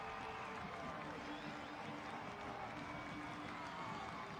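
A stadium crowd roars for a late Hartford Athletic goal against Louisville City FC at Trinity Health Stadium: a dense, steady wall of cheering and noise that holds at constant loudness throughout.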